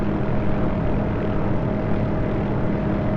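Hughes OH-6A light helicopter in the DCS flight simulator hover taxiing, a steady droning engine and rotor hum with a constant tonal whine, loud and unchanging, no talking.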